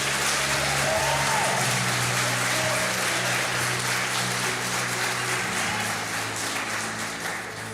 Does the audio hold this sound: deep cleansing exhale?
no